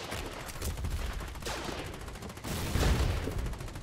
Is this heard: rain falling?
no